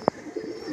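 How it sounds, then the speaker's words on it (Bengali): A Fotka line pigeon gives a short sharp note, then a soft low coo, close by in a quiet room. "এটা ফটকা লাইনের পায়রা"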